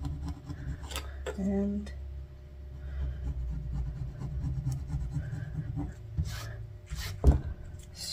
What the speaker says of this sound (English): I take my little plastic scraper, let it, after it's cooled, and just go back